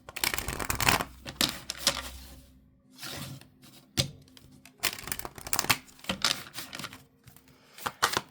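Oracle cards shuffled by hand for a tarot-style reading, a series of close, crisp riffling bursts separated by short pauses, with no talk.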